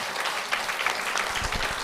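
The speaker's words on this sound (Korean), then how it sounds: "박수로 맞으세요" Audience applause at a Korean Buddhist monk's question-and-answer talk show, a soft, steady patter of clapping heard at a distance with a faint low rumble.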